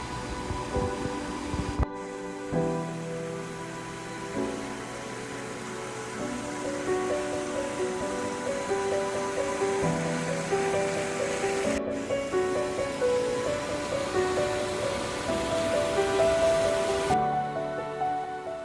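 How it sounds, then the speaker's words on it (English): A large waterfall beside a footpath on Snowdon (Yr Wyddfa) gives a constant, broadband rushing roar of falling water. The roar is steady and moderately loud, with brief abrupt cuts. "this was the biggest waterfall I've seen in person"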